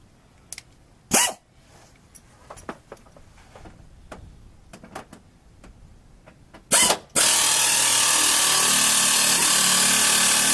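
A bolt on a car comes loose under a 1/4-inch drive ratchet, with scattered clicks and small metallic knocks up close. Near the end a loud, steady whirring power tool starts and keeps running.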